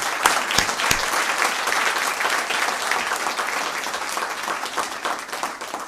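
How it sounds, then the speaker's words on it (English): A crowd applauds steadily at a moot court prize distribution ceremony, dense clapping filling the whole stretch at even loudness without letting up. "Big hand of applause for them."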